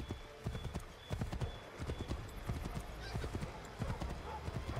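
Horse hooves clip-clop at a steady trot in Assassin's Creed 3, with a rapid, even rhythm of soft thuds over a low game ambience. No clear whinny stands out, and a voice speaks faintly at times.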